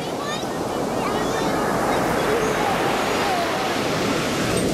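Ocean waves at Baker Beach in San Francisco roar as a steady, broad wash of surf with some wind buffeting, loud and continuous throughout without any break.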